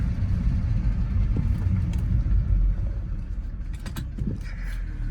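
A BMW 3 Series wagon's engine idles cold after sitting for two months, a steady low rumble with a faint mechanical clacking running through it, close and continuous with no talk.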